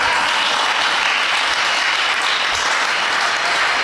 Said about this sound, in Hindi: आप मेरी हिम्मत को दाद दो, ताली बजाओ।